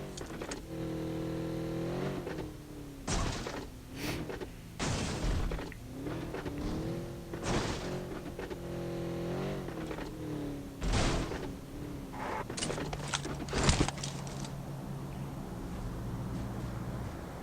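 A car driven in the video game PUBG Mobile runs with a steady engine hum that rises and falls as it revs, broken by several sharp impact bangs and clunks, with no voices.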